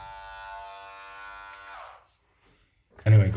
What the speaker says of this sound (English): the Xiaomi hair clipper 2